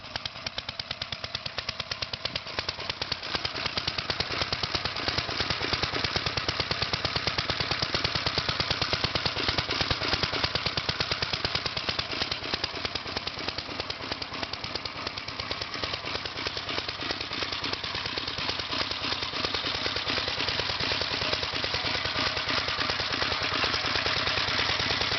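A Gravely Model L tractor engine that starts hard runs steadily and loudly up close, a dense, rapid, rough pulsing drone that holds without a break for about twenty-five seconds.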